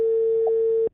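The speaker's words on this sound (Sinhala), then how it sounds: "කෝල් කරනවා" A phone line plays a single steady electronic tone while a call is placed, loud and close, holding for almost a second before it cuts off abruptly.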